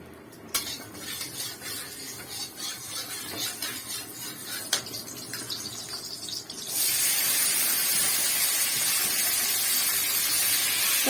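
Neem leaves and potatoes fry in a wok as a utensil scrapes and clinks against the metal. Later a louder, steady hiss of sizzling takes over and holds to the end.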